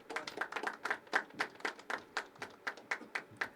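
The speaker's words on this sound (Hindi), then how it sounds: "अब यार इतने धीरे ताली क्यों बजा रहे हो" A small audience gives a soft, thin round of applause, with individual claps pattering quietly and unevenly in a room.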